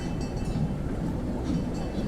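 Steady low rumble of a train rolling past nearby at Europa-Park, a continuous heavy drone with faint metallic rattle on top, no talking.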